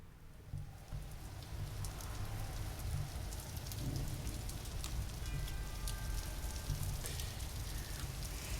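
Steady, heavy rain pours with a deep, low thunder rumble beneath it at the start of a song, a dark and dreary nighttime atmosphere with no voices.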